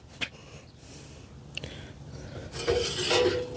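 Metal ash pan of a Char-Griller 22-inch charcoal kettle grill sliding into place, a few short scraping clatters and a rattling slide near the end, close and fairly quiet with no talk.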